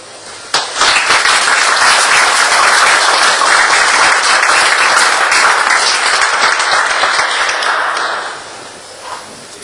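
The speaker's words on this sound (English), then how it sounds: "So I conclude by asking everyone in this courtroom to congratulate you by applause." A courtroom audience applauds newly admitted lawyers at a High Court admission ceremony, a loud dense burst of clapping that starts abruptly, holds strong for about eight seconds, then tapers off with a few last claps.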